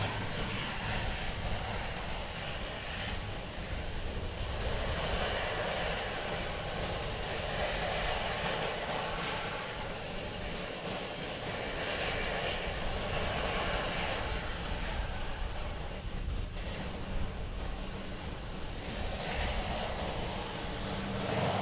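Jet engines of a Lufthansa Airbus A350 roar at an airport, a loud, steady broadband rumble that holds without pause, alone with no talk.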